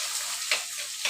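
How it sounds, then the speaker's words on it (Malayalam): Mustard seeds sizzling as they are sautéed in a pan with ginger, green chili, curry leaves and onion, a steady hiss broken by two brief sharp crackles. "കടുക് വഴറ്റാം."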